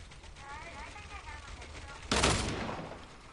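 Dual pistols fire in a shooter video game, producing a single sharp, loud gunshot burst that decays quickly, heard under a player's ongoing talk.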